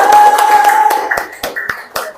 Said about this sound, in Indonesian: Tepuk tangan kalau bagus.